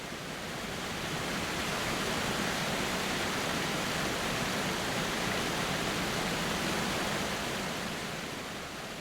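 A hidden waterfall flowing, heard as a dense, steady broadband rush of falling water with no pauses, moderately soft and continuous, with no voices over it.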